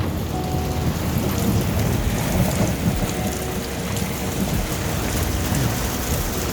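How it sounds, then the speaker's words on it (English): Heavy hail and rain hammer steadily on the roof from inside a car during a thunderstorm, a loud, dense drumming roar with low thunder rumbling beneath it throughout. "Ooh, hail."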